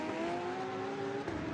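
Audi GT race cars running side by side toward the line at the 24 Hours of Spa endurance race, a steady loud engine drone with sustained harmonic tones, close and continuous with no talk.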